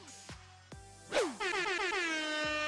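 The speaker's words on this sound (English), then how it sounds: "That's the sound of air horn" A video game air horn sound effect from Omori blasts loud and sustained for more than a second, rising in a sharp sweep that settles into a steady honk, with a few quieter clicks and thuds before it.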